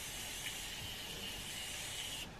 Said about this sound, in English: finally need to set my face with this Morphe setting spray